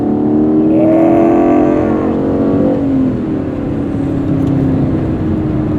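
Aston Martin V8 Vantage (2019) with its front-mounted AMG V8 revving loudly and close, the engine note climbing and then settling into a steady, throaty drone with no talking over it.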